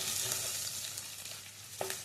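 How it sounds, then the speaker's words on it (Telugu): A tempering of chana dal, mustard seeds, cumin, onions and green chillies frying in oil, a dense close hiss with occasional faint stirring clinks, no talk. "పోపు మొత్తం దోరగా వేగాలండి."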